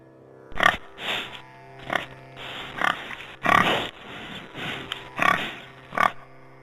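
A pig grunting and snorting repeatedly in a steady series of short, loud, close bursts, with no talk.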